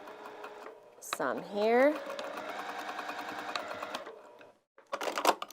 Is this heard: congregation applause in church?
no